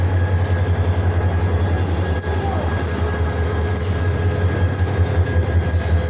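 A diesel locomotive with no coaches attached idles at Chittagong railway station, giving off a steady, loud, low engine rumble with a constant drone and no pauses.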